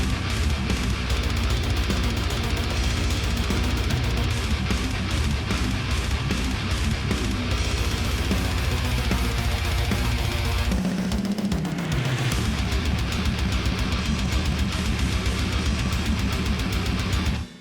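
A metal song mastered with free plugins and played back in Cubase: dense, loud distorted guitars and pounding drums run continuously, with a brief break near the middle where a bass slide drops out before the full band resumes.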